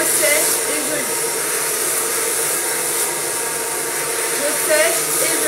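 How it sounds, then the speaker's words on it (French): A hair dryer blows steadily and close while hair is brushed straight, a constant broad whoosh filling the whole stretch, with someone speaking faintly beneath it. "Et j'incline le sèche-cheveux."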